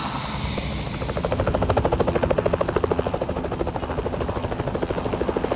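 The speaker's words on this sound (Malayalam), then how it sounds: "നമ്മുടെ ഹെലികോപ്റ്റർ റൈഡിൻ്റെ ഏറ്റവും എക്സൈറ്റിംഗ് ആയിട്ടുള്ള ഒരു കാര്യമായിരുന്നു ഞങ്ങൾ ഹെലികോപ്റ്ററിൽ കയറിയതും ഇറങ്ങിയതും" A helicopter's rotor beats in fast, steady thumps, loud and close, from a passenger ride, with a brief airy whoosh at the start before the pulsing chop settles in and carries on without talk.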